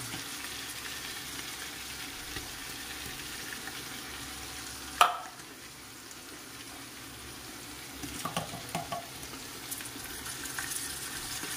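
Mushrooms frying in a pan for a carbonara sauce, a steady soft sizzle with a sharp clack of a utensil partway through, then the scrape and rustle of stirring toward the end.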